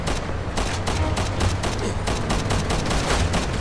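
Rapid-fire assault rifle shooting in Resident Evil 6, loud, continuous bursts of shots packed closely together throughout.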